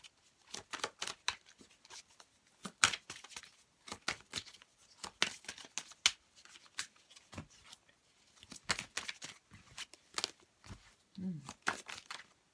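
Tarot cards being shuffled and handled for a love reading, with repeated short crisp riffling and slapping bursts at close range, some sharper snaps, mostly without speech.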